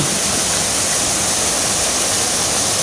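Mahogany Falls in Trece Martires, Cavite, a tall waterfall heard as a loud, steady, dense roar of falling water with no pauses.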